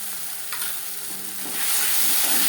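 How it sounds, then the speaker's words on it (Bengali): Ginger paste and green chili paste being stirred into onion and tomato in a pan for an aar fish curry, a steady close sizzle with scraping strokes that grows louder toward the end. "আদা ও কাঁচা লঙ্কা বাটা বেশ ভালো করে মিক্স করে দেবো"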